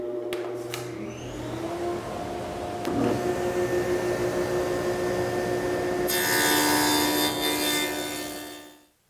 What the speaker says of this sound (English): I'm just gonna go ahead and get these tongues cut on both panels